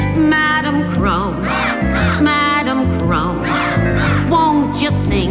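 A voice imitates a crow's cawing on a 1992 children's TV show, giving loud, repeated, wavering caws in a steady run with no pause.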